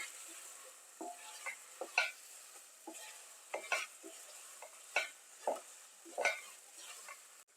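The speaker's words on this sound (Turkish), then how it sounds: "Salçamla da birlikte şöyle biraz kavuracağım" Onions and tomato paste sauté in a pan for a grape-leaf pırtımpırt dish. A faint, low sizzle runs throughout while a spoon makes a dozen or so irregular scraping strokes across the pan bottom, close and quiet.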